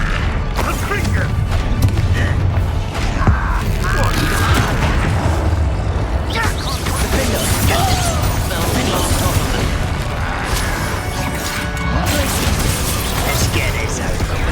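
Confringo spell explosions in the video game Hogwarts Legacy, a dense continuous barrage of booms, crashes and magical whooshes layered with battle effects and voices.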